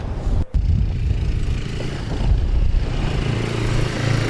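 Quad bikes approaching outdoors, a loud, continuous low engine rumble and clatter that holds steady throughout with a brief dip near the start.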